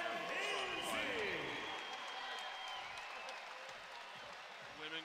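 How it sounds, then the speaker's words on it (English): Crowd applause and cheering at a women's fight between Jessica Sargus and Cheyenne Hinsey, a steady, moderately loud wash of clapping that slowly fades over a few seconds, with voices mixed in. "Women get a nice applause there."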